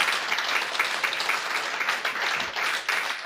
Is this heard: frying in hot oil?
no